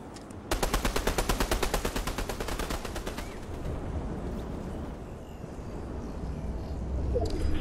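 Fortnite video game gunfire: a fast burst of automatic shots lasting over two seconds, loud and evenly paced, then a noisy rumbling game ambience with scattered faint sounds.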